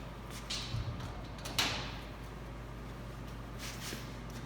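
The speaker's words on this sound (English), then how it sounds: "close the door, latching it shut" The metal door of an Allis-Chalmers circuit breaker cabinet swings shut and latches, making a few close, sharp clunks and clicks over a low electrical hum.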